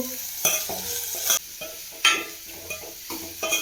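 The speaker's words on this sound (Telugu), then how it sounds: "ఉల్లిగడ్డలు కొంచెం కలర్ వచ్చే వరకు మంచిగా గోలించుకోవాలి ఉల్లిగడ్డల్ని" Onions frying in a pan for an egg fry dish, with a spoon stirring them through the oil in repeated sharp scrapes and bursts over a steady soft sizzle, close and fairly quiet, with no talking.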